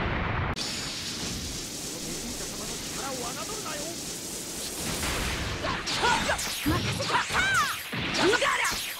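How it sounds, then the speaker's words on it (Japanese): Fireworks effect in a video game: bursts and crackling whooshes fill the mix, with layered game sounds and voiced lines over a dense background. "綺麗な花火です。"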